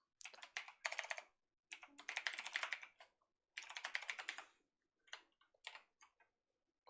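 Quick bursts of typing on a computer keyboard while entering code, close and crisp, in several clustered runs separated by short pauses with no talking.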